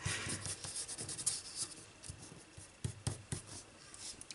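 A cheap Dollar Tree craft knife slicing through paper for a papercraft elf pocket letter, heard as scratchy, rasping cuts in irregular short bursts, close and fairly quiet, with no voices.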